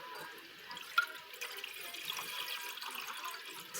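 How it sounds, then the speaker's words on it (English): Ramen broth poured slowly from a bowl into a pot, a soft steady liquid trickle and splash running throughout, faint and close with no talking. "Now I'm gonna pour the contents of what will be the broth into the pot."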